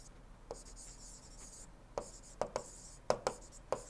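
Chalk or pen writing on a board during an engineering lecture on power plant cycles, a series of short, faint taps and scratches in an irregular rhythm over quiet room tone.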